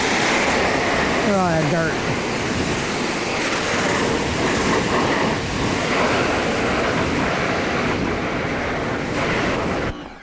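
Pressurized water spray rinses a Range Rover during a wash, a steady broad hiss lasting nearly the whole time before it cuts off abruptly, with a brief short remark spoken over it.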